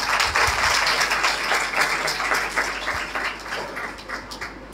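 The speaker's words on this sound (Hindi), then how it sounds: "आप सबकी भरपूर तालियों में" An audience at a sewing center opening in a church claps in a dense, continuous burst, fairly close and loud, gradually thinning toward the end.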